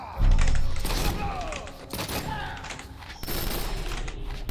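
Gunfire in the fighting game Injustice: Gods Among Us, a dense burst of loud shots and mechanical clatter rolling over several seconds, with a second heavy burst near the end, busy and layered game effects.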